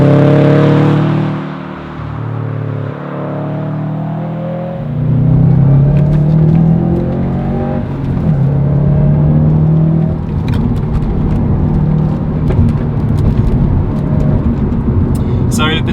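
A Subaru WRX STI drives a mountain road, its engine droning loud and close with rising and falling revs as it pulls through bends, and someone talks over it for most of the stretch.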